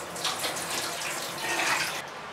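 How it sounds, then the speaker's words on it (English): Rinsed rice for pineapple fried rice being drained of its wash water, a steady running, splashing water sound like a tap pouring into a sink, close and moderately loud, continuous for a couple of seconds with no talk. "Until the water runs clear, and then drain away as much water as possible."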